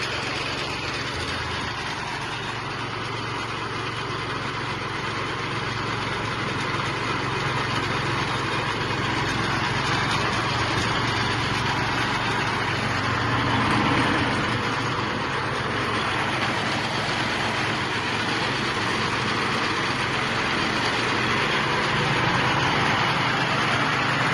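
A small 6 HP petrol engine powering a cashew apple de-seeding machine runs steadily at close range, a continuous loud drone with machine rattle and no pauses throughout.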